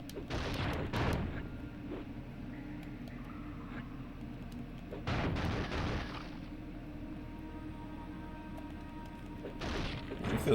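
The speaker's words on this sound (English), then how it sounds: "It feels good just smashing stuff." Objects being smashed in the X-Men Legends video game, with several loud crashing impacts in bursts around the start, middle and end over a quieter game background, no talking.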